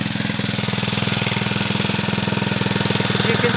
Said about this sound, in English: As you can see, it's still running. The engine's still running.